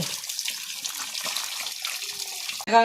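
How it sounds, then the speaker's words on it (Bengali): Freshly cut rohu fish pieces are rinsed under a running tap, a steady close splash and trickle of water that ends in a short louder clatter. "এবার মাছ ধুয়ে নেব"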